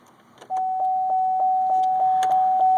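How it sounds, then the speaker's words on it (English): A 2005 Chevrolet TrailBlazer's warning chime bongs steadily, a loud, clear tone repeating about every third of a second after a soft click, with nothing else audible. "Sorry about that obnoxious bonging."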